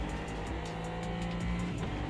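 Race car tyres squealing in the Automobilista 2 sim racing game, a steady high-pitched squeal over a continuous engine drone, sustained for about two seconds at moderate level with no talk.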